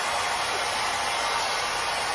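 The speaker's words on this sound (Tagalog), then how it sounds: "Blower muna tayo ng hair. Buti na lang may blower dito." A hair dryer blows hair in a Hong Kong hotel room, a loud, steady, unbroken whoosh of air heard up close with no voices.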